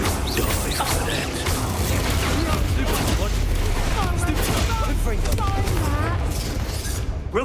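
Bombarda spell blasts in the Hogwarts Legacy video game, a dense run of loud booming explosions layered with crashing debris and combat noise throughout, with a voice talking over the fight.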